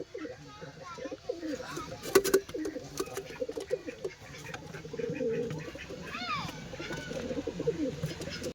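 Pigeons, a pair of Golden Punjabi birds, male and female, coo softly in repeated low throaty calls, close by, with someone speaking over them.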